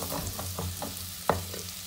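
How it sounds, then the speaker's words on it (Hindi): A masala for aloo bhujia is sautéed in a pan, with rhythmic spatula scrapes about every quarter second under a soft sizzle and one sharp clank of metal partway through. "इसको 4-5 मिनट के लिए भूनेंगे"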